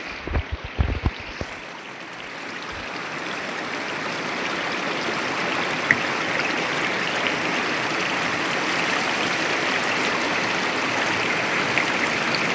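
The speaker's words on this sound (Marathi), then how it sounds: "पाणी कमी करतोय बरणीतला त्यासाठी आपण होल पाडलेत बर्नीला" Steady rushing water drains and splashes continuously through holes made in a plastic jar, close and fairly loud, after a few brief knocks at the start.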